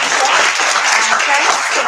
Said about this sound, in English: A big applause for Professor Arun.